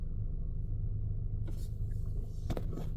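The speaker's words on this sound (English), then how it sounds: "But once I start my car," A car's engine idles steadily after being started, a continuous low rumble with a few brief clicks and chime-like blips on top, no talk.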